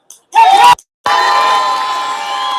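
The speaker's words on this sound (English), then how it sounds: "we're going to give a big cheer for this woman" Protest crowd in Ballymena cheering and whooping for a woman, a short loud shout, a brief gap, then a sustained roar of cheers that slowly eases off.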